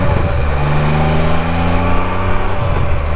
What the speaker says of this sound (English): This thing's picked up like a little whistle through the exhaust.